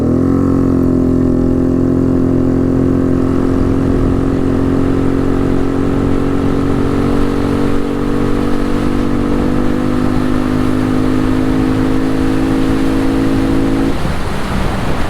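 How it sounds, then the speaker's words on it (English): A 2022 Honda Navi motorbike held at full throttle in a parking lot, its small engine droning steadily loud and close with a strained, rising whine, then cutting off abruptly near the end. "let's just see how fast we can get this thing going in right here in this parking lot"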